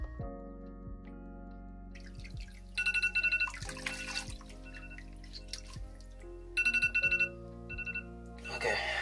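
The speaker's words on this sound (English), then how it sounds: "So there goes the timer." A kitchen-style timer alarm goes off in a bathroom during a hair-washing session, with repeated bursts of high electronic beeping over a quieter background of dripping and running water.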